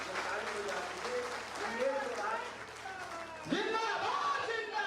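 A crowd at a town hall programme in Nawada claps in a steady wash while voices talk and call out over it, the noise swelling again near the end.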